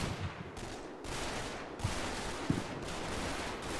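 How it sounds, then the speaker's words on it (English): Gunfire trades back and forth in the Combat Mission: Battle for Normandy video game, a dense, continuous roar of distant battle noise with a few sharper shots cracking through, no voices over it. "There's quite an exchange of fire happening."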